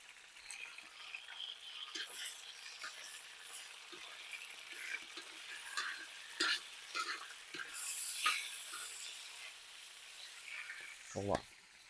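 Meat hits a hot pan with pomegranate sauce and sizzles quietly, while a spoon occasionally scrapes and stirs. Near the end there is a sharp clink of cookware.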